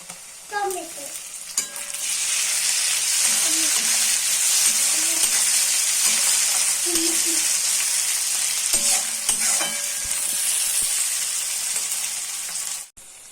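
Tomatoes hiss and sizzle in hot oil while a spoon stirs them in a pan for a dhaba-style tadka, with a steady loud frying roar and occasional scrapes and clinks throughout, no voices.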